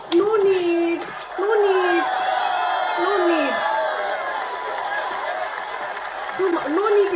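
Crowd cheering and shouting from an arena scene in Game of Thrones, a broad roar swelling behind loud voices that call out over it throughout.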